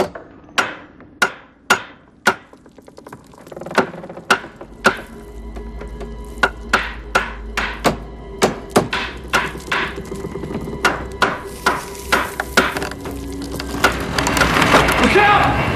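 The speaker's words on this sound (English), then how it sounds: "You want to hand me that mallet?" Mallet strikes hammering a wooden star into place, a long series of sharp knocks at an uneven rhythm, some single and some in quick clusters, close and loud, with a rushing background rising toward the end.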